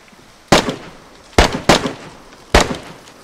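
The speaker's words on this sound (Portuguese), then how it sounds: "Tem tiro silenciado aqui, tá?" Gunshots in the DayZ survival game: four sharp, loud reports at irregular intervals, one pair close together, each with a short decaying tail, with no talk.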